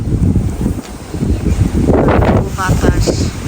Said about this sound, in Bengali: আজকের বাতাসের সাথে খালি ধুলা আসতেছে, এমন পরিমাণের বাতাস।